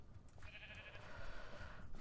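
Sheep in Minecraft bleat in a short, wavering tone over a steady low background rumble, one drawn-out call standing clear in the mix.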